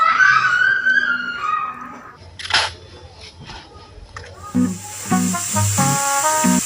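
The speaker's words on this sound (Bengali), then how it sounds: "প্রেশার কুকারে শব্দ হচ্ছে" A pressure cooker on a home stove lets out a sharp burst of hissing steam, followed by a longer, steady hiss near the end, with people talking between the releases.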